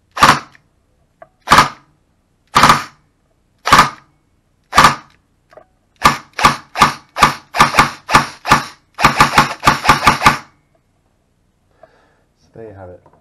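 An airsoft gun fitted with a Warfet MOSFET fires, first five spaced single shots, then rapid three-round bursts in quick clusters, loud and close, ending with a faint rattle.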